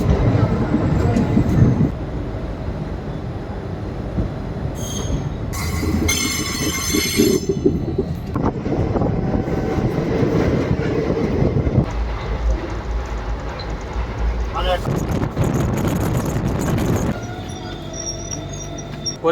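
The Sri Jagannath Express between Shalimar and Puri rolls steadily on its rails, with a constant rumble, clattering wheels and bursts of high metallic wheel squeal through the ride, loud and close from inside the carriage.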